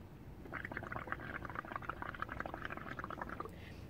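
Paint being stirred in a jar, a quick run of small wet clicks and sloshes close by that goes on steadily for about three seconds over a low background hum.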